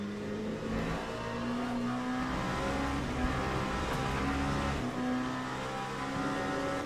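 Race car engine in the Le Mans Ultimate sim, a steady close drone of revving under throttle with shifting pitch, sustained through the whole stretch with faint tire noise.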